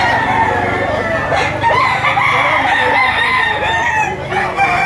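A banded rooster being offered for sale crows loudly and repeatedly up close, with clucking fowl and a busy market din around it.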